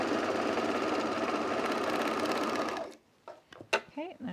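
Serger overlocking fabric for pajama pants, a dense steady mechanical whir and rattle running loud for about three seconds before stopping abruptly, followed by soft handling noises and brief clicks.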